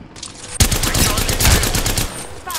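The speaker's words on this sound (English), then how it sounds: "I'm getting shot." Rapid bursts of close, loud gunfire crack out in the Apex Legends video game, one sharp volley followed by a sustained rattle of shots.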